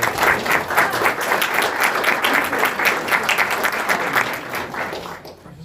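A room at a school board meeting bursts into applause, dense rhythmic clapping from many people, loud and close, holding steady before tapering off at the end.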